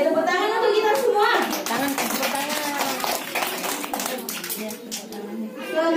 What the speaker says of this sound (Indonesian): itu tepuk tangan untuk kita semua.